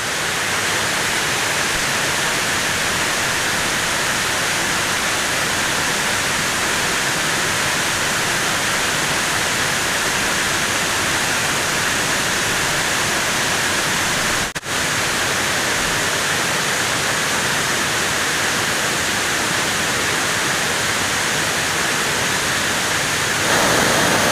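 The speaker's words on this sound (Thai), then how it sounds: "ชั้นบนสุดของน้ำตกห้วยแม่ขมิ้นนะครับ" The top, seventh tier of Huai Mae Khamin waterfall, after a storm, gives a steady broadband roar of rushing water that runs unbroken and loud throughout, with a brief dip partway through.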